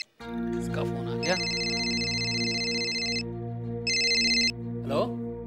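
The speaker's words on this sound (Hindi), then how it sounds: "इसका फोन आ गया।" A telephone rings with an incoming call in two bursts of a bright, rapidly trilling electronic tone, the first long and the second short, with voices talking around them over a steady musical drone.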